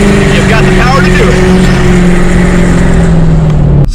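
A tuned truck's engine drones loud and close as it accelerates onto a busy road, its steady low tone rising slightly in pitch over several seconds before cutting off abruptly.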